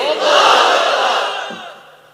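Large crowd at an Islamic sermon (waz) roaring a takbir response in unison, loud and swelling then slowly fading over about two seconds.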